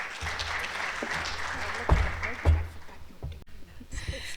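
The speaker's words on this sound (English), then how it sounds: "that's a round of applause" Applause from an audience at the close of a day of education group discussions, steady clapping throughout with a couple of louder bursts and a brief dip near the end, with murmuring voices mixed in.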